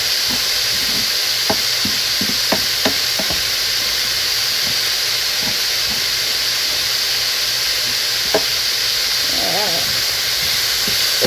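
Pork and vegetables stir-fry in a hot pan with a steady loud sizzle and hiss, broken by occasional clicks and scrapes of a utensil against the pan.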